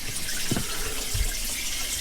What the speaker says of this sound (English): but now you're running all your water